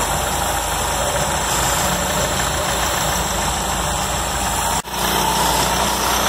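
Car engine fitted with a reconditioned carburetor runs steadily and loudly at standstill with its second stage opened, a constant close mechanical drone interrupted by one sharp brief dropout near the end.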